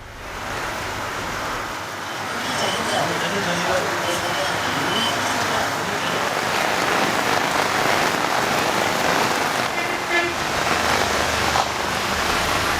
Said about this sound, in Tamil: நாகை மாவட்டத்தில் திடீரென கனமழை பெய்து வெப்பம் தணிந்து குளிர்ச்சியான சூழல் நிலவுவதால் மக்கள் மகிழ்ச்சி அடைந்துள்ளனர்.